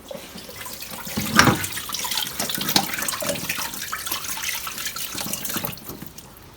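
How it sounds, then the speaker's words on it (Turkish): Hands washed under a running kitchen tap, water splashing steadily into a sink with a louder burst of splashing early on, fairly close and moderate in level, no talking. "Biraz elini yıkayayım."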